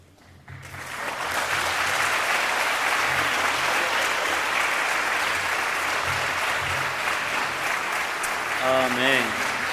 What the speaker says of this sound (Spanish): Ese aplauso debe ser con toda la fuerza y agradecimiento a nuestro Padre Celestial.